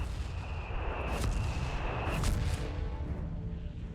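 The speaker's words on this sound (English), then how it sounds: "So yeah, a lot of artillery here, just so much mortar fire." Mortar and artillery fire in a Company of Heroes 3 battle, with a rumbling wash of distant blasts, two sharper explosions rising out of it, and a thin whistle running through the middle, continuous and fairly loud, with no voices.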